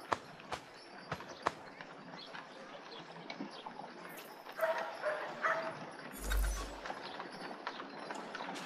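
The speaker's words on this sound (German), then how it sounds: "Ach, der Hund bellt hier im Spiel." A dog barks faintly in the video game Assassin's Creed 3, with a few distant yips over a quiet in-game ambience of hoof clops and occasional bird calls.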